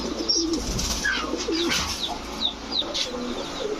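Giribaz and racer pigeons coo repeatedly in soft, low warbling calls, several birds close by, with faint chirps and rustling of wings in the background.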